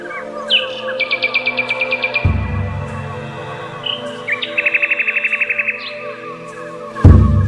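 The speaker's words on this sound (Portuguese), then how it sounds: "estamos ouvindo o cantar dos pássaros" Birds sing nearby in a forest in repeated rapid trilling bursts and sharp chirps, with a couple of low thumps in the background.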